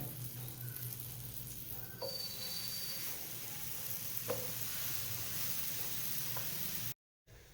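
Bread slices toasting in a pan for a sandwich give a steady close sizzle and hiss, with a few light clicks, before it cuts out abruptly near the end.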